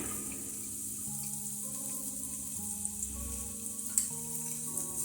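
Carrots frying in a pan, a steady, moderately loud hiss of sizzling oil that runs throughout, with a tonal melody playing underneath and a small clatter near the end.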